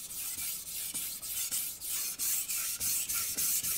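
A stainless steel knife drawn over a Suisin 1000 grit whetstone, producing rhythmic gritty rasping strokes, about ten close, even passes in quick succession with brief gaps between them and no speech.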